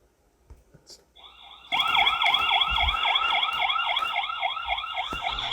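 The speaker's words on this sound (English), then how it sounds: "you can see that the siren turns on" A loud electronic siren from a solar security camera suddenly starts at night, wailing in rapid repeating whoops with a shrill steady tone layered over it, close by.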